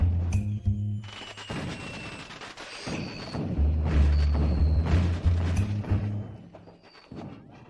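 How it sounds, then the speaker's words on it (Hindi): Booming blasts and crackling bursts overlap continuously, with whistling streaks between explosions, loud and layered like a fireworks barrage. "आतिशबाजी का समय।"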